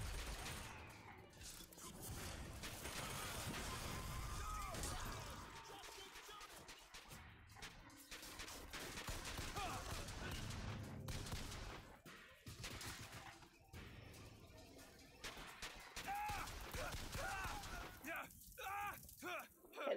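An automated turret in BioShock Infinite keeps firing in long, dense rattling bursts with crashes and shattering mixed in, a steady barrage that thins toward the end beneath a speaking voice.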